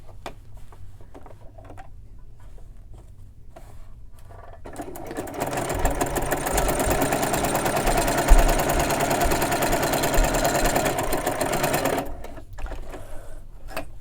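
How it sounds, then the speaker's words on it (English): A sewing machine stitches through two layers of fabric for a roll-up organizer, running as a steady, close, rapid mechanical whir for several seconds before stopping. Quieter handling sounds come before and after it. "just sew through these 2"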